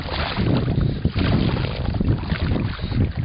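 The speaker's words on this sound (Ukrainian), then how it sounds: "Трошки треба веслами працювати. Що і робить у нас загребущий зараз Саша." Oars working a boat on the Dniester river, a steady wash of water churning along the hull with gusts of wind noise across the mic, continuous and fairly loud with no talk.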